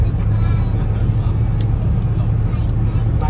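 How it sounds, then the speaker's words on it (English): Low, steady engine rumble inside a bus on a 30-minute ride in Hue, Vietnam, a continuous droning hum with faint rattles and a brief high squeak, heard from within the cabin. "Now we have a 30-minute bus ride."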